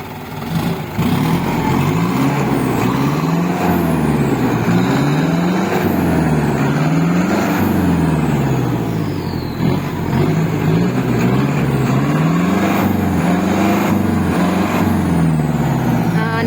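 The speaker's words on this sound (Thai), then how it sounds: "เดี๋ยวมาฟังเสียงเครื่องของคันนี้กันค่ะ" A medium six-wheel dump truck's diesel engine runs close and loud, its pitch rising and falling in repeated rhythmic revs over a steady low rumble.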